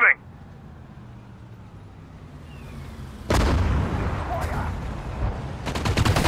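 Gunfire in the Sudden Strike 4 World War II strategy game, a sharp burst opening into sustained volleys of rifle and machine-gun shots with booming impacts, loud and dense, while clipped unit voice responses sound over the battle.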